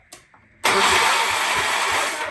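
An old engine in an abandoned Sears machine, fitted as a new replacement, catches after a brief cranking tick and roars up loud and close, running rough and steady at a high idle.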